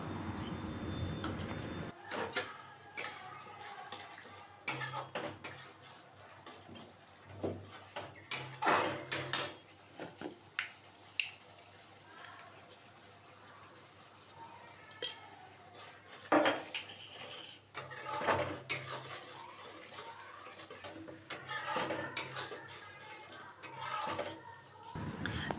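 A spoon mixes cumin, coriander and Kashmiri chili powder with salt in a bowl, producing irregular clinks and scrapes in bursts with quiet gaps between them.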